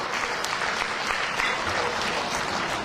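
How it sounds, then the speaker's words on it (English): Steady, dense applause from a large crowd, loud and sustained throughout without any talking. "another big round of applause for UPS President, Mrs. Wallie Basbacio."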